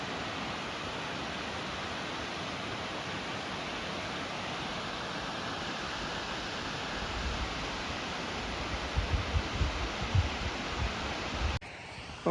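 A waterfall viewed from a higher elevation near Gibsonville gives off a steady, dense rushing roar that holds unchanged throughout and cuts off abruptly just before the end.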